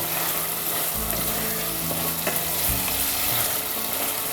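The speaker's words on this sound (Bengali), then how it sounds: "এই যে শুটকিটা সহ এই মশলাটা আমি একটু কষিয়ে দেব" Dried taki fish with spices sizzling and frying in a pan, a dense, continuous crackling hiss with faint stirring knocks, loud and close, with no voices.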